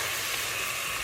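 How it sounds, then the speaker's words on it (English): Onions stirred in a cooking pot for chicken tinola give a steady, close sizzling hiss with faint scraping underneath for about a second, with no voice. "I'm stirring again."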